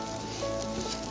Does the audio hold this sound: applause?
no